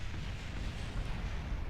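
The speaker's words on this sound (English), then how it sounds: "There are explosions." Low, rumbling explosions from the spaceflight game Kerbal Space Program, heard as a muffled, continuous boom at modest volume.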